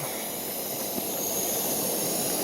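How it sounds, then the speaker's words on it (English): An MSR Whisper Light camping stove burns at full force at a lakeside campsite, giving a steady, loud, roaring hiss that stays even and unbroken throughout, with no talk over it. "Got the MSR Whisper Light stove working at full force."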